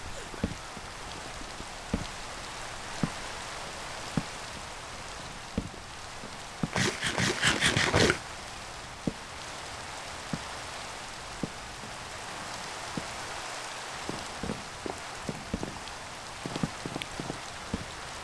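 Steady rain falling in the video game Minecraft, a soft continuous hiss with scattered drop ticks throughout and a brief louder burst partway through, with no talking.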